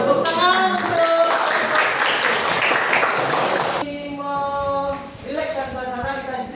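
An audience claps steadily at an educational gathering, with a voice talking over it. Partway through the clapping fades and the talking carries on.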